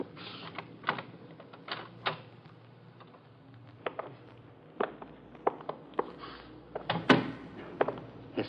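A door creaking and being worked open in an old radio drama set in a museum of Egyptian relics, with scattered clicks and knocks of the latch and handle over soft background hiss.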